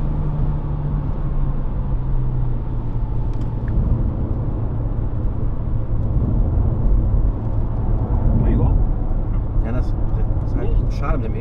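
Dacia Duster cornering hard through a curve, a steady engine drone and road rumble running throughout under ongoing talk, with a brief rise in noise near the end of the turn.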